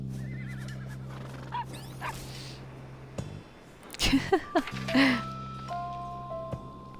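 A horse in the video game Farm Together 2 neighs loudly in a shrill, quavering whinny amid a steady electronic hum and tonal beeps, with a few brief thumps around it.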